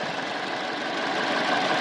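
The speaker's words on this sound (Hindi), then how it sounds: "और इंजन की साउंड आप देख सकते हैं, साउंड ज़बरदस्त।" A 2024 Hyundai Sonata with a 2.0-litre engine idles, giving a smooth, steady hum heard close and alone for a moment.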